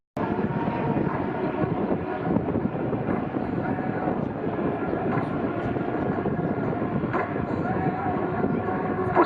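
A small helicopter flies a solo aerobatic routine at the Southport Airshow, its rotor and engine noise droning steadily at mid distance, with an announcer's voice over a loudspeaker.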